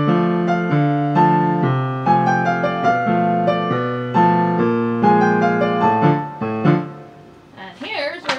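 A piano plays the last line of page two of a piece from a piano book as a lively run of chords and melody over several seconds. It fades near the end as a voice starts speaking.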